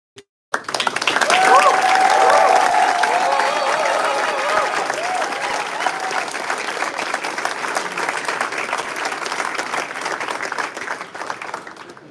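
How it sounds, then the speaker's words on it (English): An audience at a moot court competition claps in sustained, dense applause for the Mainz team, starting abruptly after a brief pause and holding steady with many hands near and far for about eleven seconds. "We would really invite everyone, and also the people from Tübingen, to also applaud Mainz"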